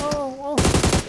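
In PUBG, a held tone breaks off into a rapid burst of close automatic gunfire, roughly eight quick shots in a tight rhythm, with no talk.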